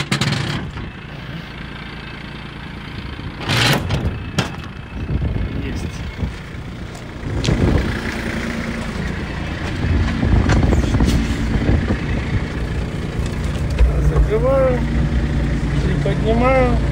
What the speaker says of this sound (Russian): Поднимаю за шторку, фреза поднимается.